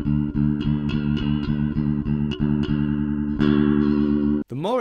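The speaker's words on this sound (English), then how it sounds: "it will create a chorus effect, and some say a fuller tone" Electric bass through an Electro-Harmonix Bass Clone chorus pedal: a thick, shimmering bass line with regularly plucked notes and a gentle wavering warble, loud and close, ending with a quick sliding note, no talk.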